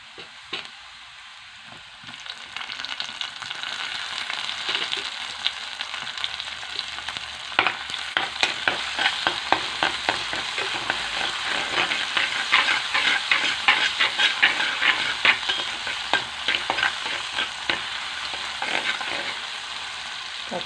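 Mixed vegetables with tomato frying in a pan, a steady close sizzle punctuated by repeated scraping stirs that grows louder and busier after the first couple of seconds, with no talking.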